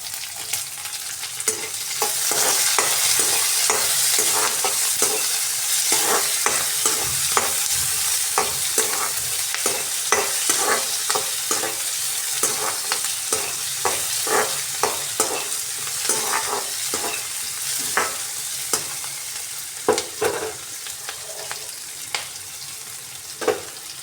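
Chopped onion frying with chilli in a pan for village-style tomato gojju, a steady sizzle under repeated rhythmic scraping stirs of a spoon against the pan, close and clear with no talking.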